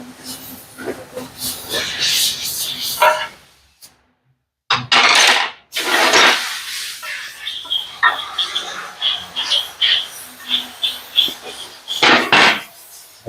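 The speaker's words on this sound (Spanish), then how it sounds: "a medida que vamos haciendo el proceso de rimado, vamos buscando el diámetro correcto para el ajuste entre el eje de pulgada y el diámetro interno del buje" A bushing is reamed out to fit a one-inch shaft, with bursts of scraping, rasping cuts broken by short pauses and a brief silence, close up.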